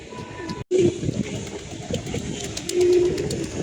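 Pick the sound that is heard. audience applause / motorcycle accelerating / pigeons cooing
pigeons cooing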